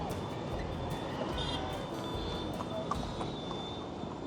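Horse hooves clip-clop on a city road at a red signal, steady rhythmic clopping in dense traffic noise, heard from a motorcycle, with a thin tonal whine running throughout.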